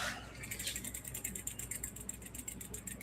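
A 1974 Schwinn bicycle wheel with a worn tire spins freely, its freewheel ratchet clicking in a rapid, even, slowly easing rhythm, close and quiet.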